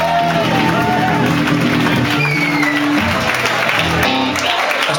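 A concert crowd gives loud applause and cheering, a dense wash of clapping with voices and shouts mixed in throughout.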